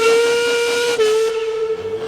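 A steam engine's whistle from Thomas and Friends blows as one loud, sustained tone, holding steady for about two seconds with a brief wavering dip midway before fading slightly.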